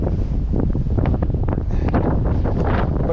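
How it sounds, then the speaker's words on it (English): Strong, steady wind buffets the microphone on a mountain summit trail of Mt Monadnock, a loud continuous roar with gusty swells and no talking. "It is getting windy and chilly"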